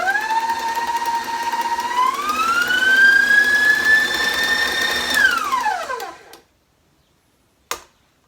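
An electric mixer runs steadily for about six seconds, its motor whine rising in pitch as it speeds up, then winding down and stopping, mixing thick monster cookie bar dough with eggs and no flour. A brief knock follows in the quiet.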